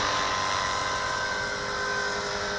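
A V450D01 RC helicopter with gyro autopilot hovers nearby, giving a loud, steady high-pitched whine of motor and rotor with no break and no voices.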